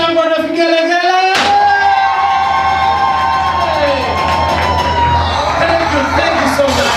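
A crowd at a book launch in Baringo erupts into loud, sustained cheering and high ululation right after a voice on a microphone, the celebratory noise holding steady throughout.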